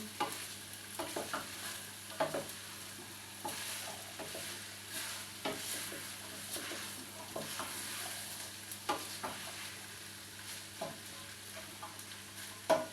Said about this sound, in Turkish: Şöyle bir çevireceğim. Hepsi birbiriyle özleşsin, karışsın.